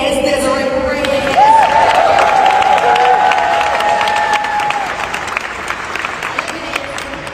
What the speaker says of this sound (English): I want to give a round of applause to Desiree.